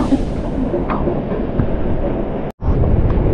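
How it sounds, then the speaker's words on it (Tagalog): Strong wind roars and buffets steadily in a broadband rumble, cutting out for a split second before resuming. "sobrang lakas ng hangin"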